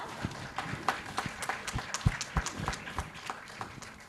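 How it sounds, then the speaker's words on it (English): Scattered audience clapping greets a panelist coming on stage at a teen conclave in India: sparse, uneven individual claps at moderate distance, fairly faint, with no talk. "A huge round of applause for her"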